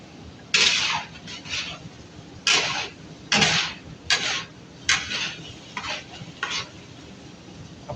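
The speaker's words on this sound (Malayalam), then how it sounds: "എണ്ണയ്ക്കകത്ത് കിടന്നിട്ട് നല്ലതുപോലെ അത് ഒന്ന് നല്ല ഫ്രൈ ആവും" Onions and beef frying in coconut oil with ginger-garlic paste and green chillies for a beef fry: bursts of spatula stirring and scraping over a steady sizzle, close and fairly loud, with no talking.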